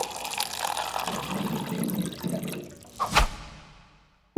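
Water pours from a water cooler as a short jingle effect, a gurgling stream that tapers off, followed by a bright plink or drip and a brief tail fading to quiet.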